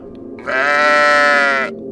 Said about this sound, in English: For the sheep.